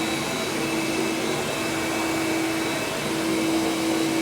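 A carpet-drying machine blows over a wet wool carpet that was cleaned of red wine and vomit, giving a loud, steady rushing whoosh with a faint constant hum that continues unchanged, with no talking.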